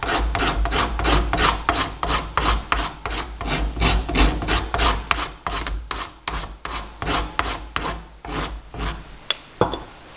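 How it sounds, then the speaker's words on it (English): A coarse file rasps back and forth on a wooden training kusari-gama, loud and close, in a steady run of about twenty quick strokes that grow slightly lighter toward the end, with no talking. "I'm even going to switch to a more coarse file. Really rip some of this off."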